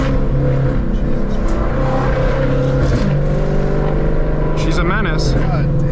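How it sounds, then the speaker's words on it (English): A Ford Mustang Shelby S650 engine revs loudly and drops through downshifts, its steady drone shifting pitch in stepped blips while someone talks over it close by. "Look at the downshifts,"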